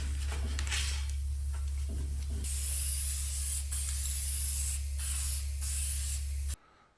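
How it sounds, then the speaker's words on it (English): Aerosol layout dye sprayed onto brake rotors in a near, loud continuous hiss, broken by short pauses between bursts before the can stops abruptly. "Then I'll take my layout dye and spray it on all the surfaces."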